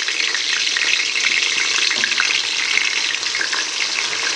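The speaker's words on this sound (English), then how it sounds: "So the oil is ready. I'm putting the onion first." Chopped onion fries in hot oil for a vegetable soup, with a dense, loud, continuous crackling sizzle that holds steady throughout.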